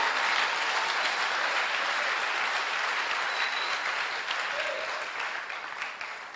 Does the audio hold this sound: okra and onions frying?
no